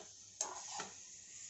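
Onions frying in a pan with cashews and raisins, being stirred: a faint, steady sizzle with a couple of soft scraping stir strokes close by, and no talking.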